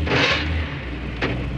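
A Hyundai Accent WRC rally car pulls away as the clutch is let out, its engine rumbling loudly and close from inside the cabin, with a brief sharp burst near the end.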